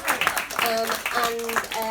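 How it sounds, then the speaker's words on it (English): An audience at a talk on mental health applauds, a steady patter of clapping running throughout with voices and cheers mixed over it. "everyone give him a clap"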